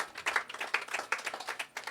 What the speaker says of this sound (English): I want to ask for a special round of applause for all our healthcare workers